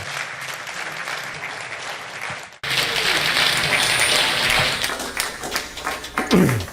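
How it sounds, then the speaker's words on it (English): An audience at a 9/11 truth presentation gives a big round of applause, loud dense clapping that cuts off abruptly and resumes, then continues with uneven surges and a few thumps. "Can we have a big round of applause"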